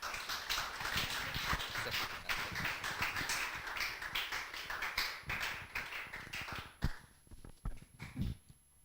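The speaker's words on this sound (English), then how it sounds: "give a big applause for all the keynote speaker" An audience at an informatics international workshop applauds the keynote speakers, with dense, steady clapping for about seven seconds that then thins into a few scattered, louder claps.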